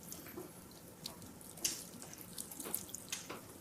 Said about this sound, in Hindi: शेफ पानी डाल रहे हैं